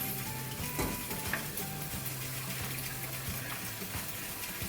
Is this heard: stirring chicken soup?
yes